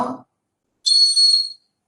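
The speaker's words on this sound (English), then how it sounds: "now it is blowing whistle" A toy bird whistle is blown once in a bright, steady tone lasting under a second, after a moment of someone talking and a short silence.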